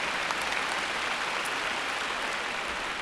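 A commencement crowd applauds continuously, a dense, even wash of clapping from a large audience that holds steady throughout with no speech over it.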